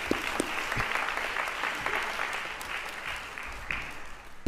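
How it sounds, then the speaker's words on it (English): A live audience at the Techcracker Lab 2025 event at UNSW applauds steadily as Bill Barty is welcomed onto the stage, a dense, even wash of clapping throughout. "Bill, round of applause."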